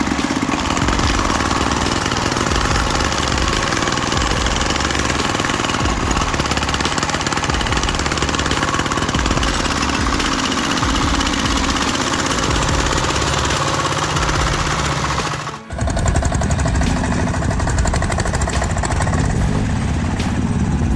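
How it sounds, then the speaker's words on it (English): A specially tuned off-road monster truck with six D16 engines roars loudly and continuously, a heavy rattling drone that dips sharply for a moment before surging back, with no voices. "a specially tuned machine with 6 roaring D16 engines"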